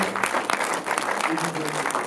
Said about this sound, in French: On applaudit Julien Vicel, Fabrice Tico, Linky Dou, Chris